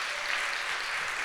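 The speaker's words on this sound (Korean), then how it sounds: "우리 수고해 주시는 아우트로에게 다시 한 번 더 뜨거운 박수를 부탁드리겠습니다." Applause from a church youth-service congregation, a steady dense patter of many hands clapping throughout a short burst, fairly loud and even with no talk over it.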